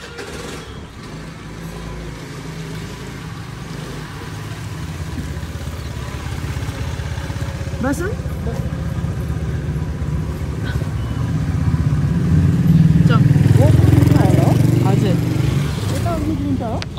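A Pathao ride-hailing scooter engine runs with a steady low hum that grows louder toward the end, under brief speech and background street noise.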